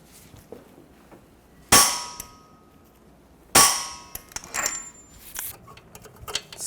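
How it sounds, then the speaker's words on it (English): A torque wrench tightens the front axle nut on a 2014-2019 Toyota Highlander to 216 foot-pounds. Two sharp metallic clicks ring out nearby, each with a brief ringing tail, followed by smaller rattles and taps. "I'm going to torque the axle nut to 216 foot-pounds."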